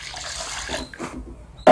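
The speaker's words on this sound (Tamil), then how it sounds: "அப்படியே ஒரு கடாயில் தண்ணி ஊற்றி" Water is poured into a kadai for boiling toor dal, a brief close splashing pour that fades, followed by a sharp knock at the end.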